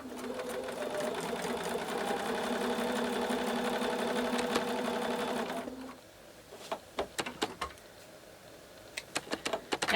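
A sewing machine runs steadily as it stitches quilt block pieces, a close continuous whirring hum for several seconds that stops abruptly, followed by scattered clicks and handling taps.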